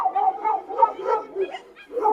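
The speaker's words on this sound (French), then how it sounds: "il aboie pour jouer ou pour attaquer." A Rottweiler named Odin barks in excited, irregular bursts with whimpering yips between, close and fairly loud, short strained calls repeating for a couple of seconds.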